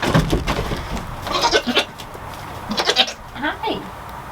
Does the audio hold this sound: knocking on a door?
no